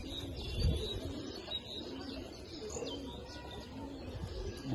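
Palla line Giribaz pigeons coo softly and continuously inside a loft, with low rolling calls layered together and faint chirps above them.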